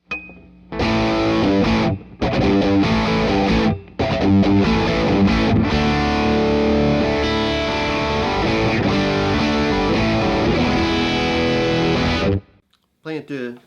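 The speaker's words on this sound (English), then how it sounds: "Here's my distortion sound." Heavily distorted electric guitar, a Telecaster through a DS-1 distortion pedal into a Phase 90 phaser, plays loud chords and riffs with short pauses between phrases, then stops abruptly near the end.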